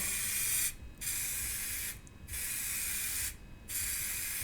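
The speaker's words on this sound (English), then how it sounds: "And the clear coat's now going on." An aerosol can sprays clear coat onto a car's patched, peeling paint in three steady hissing passes, each broken by a short pause, close and fairly loud with no talking.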